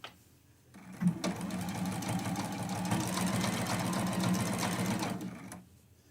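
A sewing machine runs steadily for about four seconds, stitching a quilt-as-you-go Christmas block seam a quarter inch from the edge, with rapid even needle clatter that starts and stops cleanly.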